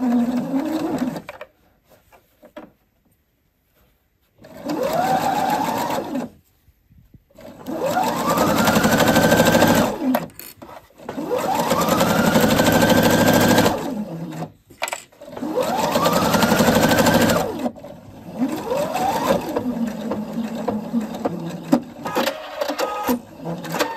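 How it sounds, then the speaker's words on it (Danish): Sewing machine stitching the inner leg seam of children's trousers with a 1 cm seam allowance, running in three long bursts separated by pauses, with a steady mechanical hum that rises and falls with speed. "Så det er vores lille indvendige bensøm, og jeg syr sammen med 1 cm sømmerum."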